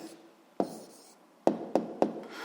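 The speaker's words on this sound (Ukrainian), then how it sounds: "Пишемо відповідь." A hand writing an answer for a physics exercise, a few separate dry taps and scratches of pen on paper, close and quiet, spaced out with short pauses between them.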